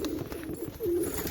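Pigeons coo in a short, moderately close series of soft, rolling calls, with one longer, stronger coo near the end, over a quiet background.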